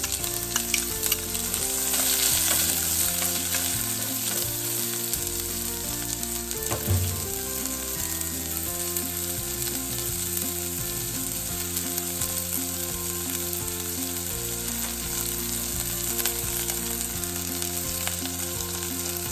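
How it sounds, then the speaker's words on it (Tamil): Garlic and onion frying in oil for a fried eggplant gravy: a continuous, close sizzle with occasional stirring, steady and unbroken with no voices. "உள்ளி கொஞ்சம் பொரிஞ்சிட்டு வெங்காயத்தை போட்டுக்கணும்"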